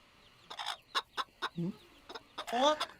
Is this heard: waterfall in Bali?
no